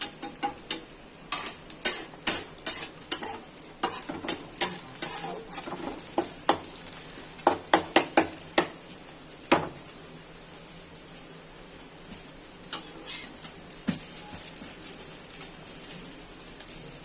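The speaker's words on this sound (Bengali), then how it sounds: "হলুদের গুঁড়োটা দিয়ে দিলেন মশলার মধ্যে, এটাকে এবার ফ্রাই করবে।" Spice paste with turmeric powder frying in a pan for an egg curry, a steady sizzle broken by frequent sharp scraping and clinking stirs, close and fairly loud, with no voices.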